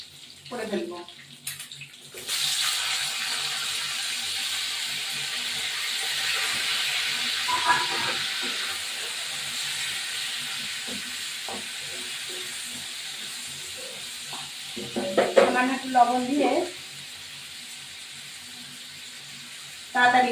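Onions fry in hot oil for chicken biryani, a steady broadband hiss and sizzle that runs nearly throughout, with brief clatters of stirring near the start and toward the end.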